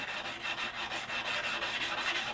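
Steady rasping strokes of hand sanding on a heat-treated steel knife blade, a continuous close scratchy rubbing with a faint back-and-forth pulse and no talking.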